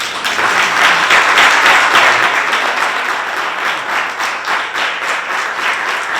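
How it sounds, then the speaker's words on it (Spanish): An audience applauds an interviewed author at a live talk, with loud, dense, sustained clapping that fills the whole stretch and slowly eases off slightly toward the end. "Creo que Pedro se merece un gran aplauso y todavía hay más."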